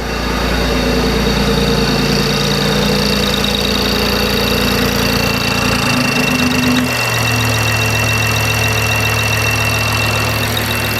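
A BMW i8 gasoline engine idles steadily just after a cold start, a loud continuous drone with a constant low hum, heard close up without any talk.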